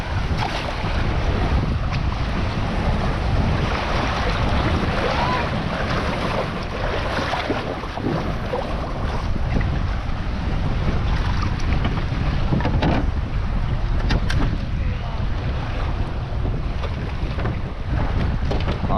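A canoe launched onto Slocan Lake rides light swell while steady wind buffets the microphone, giving a continuous loud rush of air and water with no talking.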